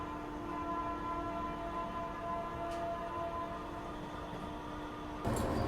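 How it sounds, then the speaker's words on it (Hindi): An approaching local train rumbles steadily at a distance with a sustained humming drone, heard from aboard another waiting train, before a louder rush of noise sets in near the end. "कोई लोकल ट्रेन है वो आ रही है।"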